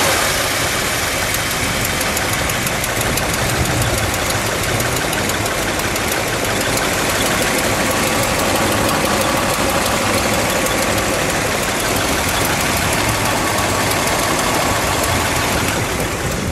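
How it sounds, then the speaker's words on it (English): A blue 1970 Dodge Coronet Super Bee with a 426 Hemi V8 idles steadily and loudly up close, a dense, continuous rumble with a lumpy knocking pulse and no speech over it. "let's start it up for just a moment. We'll let it idle. We'll give it a little rev."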